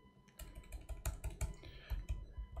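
Fast typing on a computer keyboard, a close burst of crisp key clicks in an uneven rhythm with a few louder strikes, heard alone without speech.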